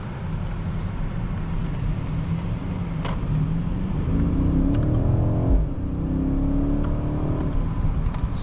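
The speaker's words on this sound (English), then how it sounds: "Such smooth and effortless acceleration" A 2025 BMW 760i xDrive accelerates on the road from inside the cabin, a smooth, steady engine hum rising in pitch over a continuous tyre and road rumble, with a few faint clicks and no talking.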